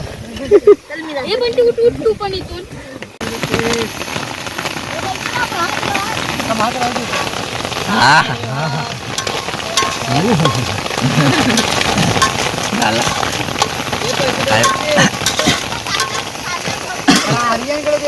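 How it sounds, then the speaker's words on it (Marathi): Heavy monsoon rain roars steadily as a broad hiss at a creek-side party, with excited voices talking and calling over it throughout. "आला मोठा आला पाऊस"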